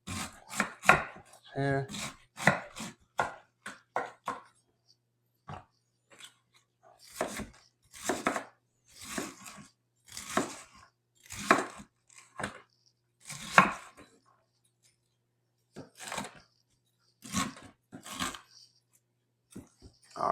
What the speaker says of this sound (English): So I'm only cutting up half a cabbage.